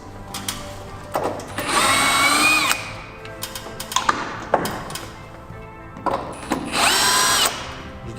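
A power drill drives screws into the fascia board of a flat-roofed garden shed, with bursts of whining motor and a couple of short trigger taps between the longer runs, loud and close.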